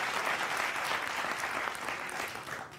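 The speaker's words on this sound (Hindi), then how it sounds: "तालियां बजाइए आप ऐसा" Audience at a Hindi poetry recital on politics and inflation applauds, a brief, even burst of many hands clapping, moderately distant and steady throughout.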